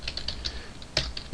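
Rapid typing on a computer keyboard while coding a Java program, with close, crisp keystrokes in an irregular rhythm and one sharper key press near the middle.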